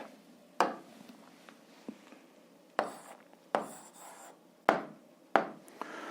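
Someone writes out the answer to an eighth-grade algebra exercise, making a few close, sharp taps and scratchy strokes separated by short pauses in an otherwise quiet room.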